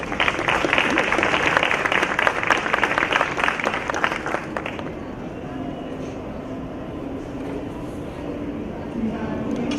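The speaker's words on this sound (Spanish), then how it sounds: "Démosle un fuerte aplauso, por favor." A conference audience breaks into thick, sustained applause for an invited doctor. The clapping lasts about five seconds and then gives way to a quieter room hum.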